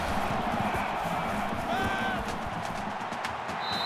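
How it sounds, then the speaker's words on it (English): A stadium crowd in an NCAA 14 college football game, Vanderbilt at Alabama, keeps up a dense, steady roar through the whole stretch. Faint whistle-like tones rise briefly above the noise. "the crowd is always into it here"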